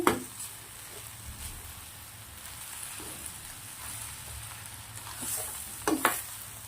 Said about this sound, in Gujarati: હવે આપણે દાણા નાખ્યા પછી મસ્ત મજાનો પુલાવને મિક્સ કરી દેવાનું છે